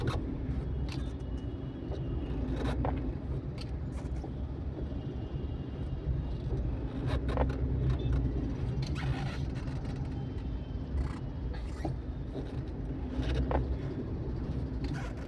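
Maruti Alto K10 (2023) creeping at walking pace in city traffic, a continuous low engine and road rumble heard from inside the cabin, steady and moderately loud with faint mechanical ticks, no talk.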